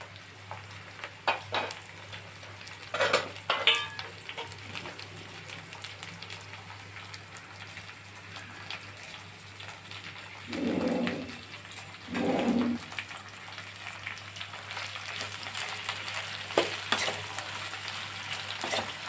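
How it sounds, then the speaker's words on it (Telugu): Chopped ivy gourd frying with turmeric in a pan, a steady close sizzle broken by spatula scrapes and stirring knocks, with two louder bursts of stirring midway. "పసుపు వేసుకొని బాగా కలపాలి"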